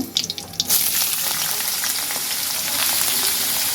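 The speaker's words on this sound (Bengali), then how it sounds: "কই মাছ ভাজি করা হবে, একদম তেলে করকরা ভাজি আছে না" Koi fish crisp-frying in hot oil, a steady dense sizzle that runs nearly unbroken with a few sharper crackles near the start, close and fairly loud with no talking.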